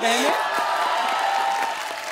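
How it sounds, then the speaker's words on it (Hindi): A studio audience on a Hindi TV show claps in a sustained burst of applause, mixed with a swooping musical sound effect. "जोरदार तालियां हो जाएं"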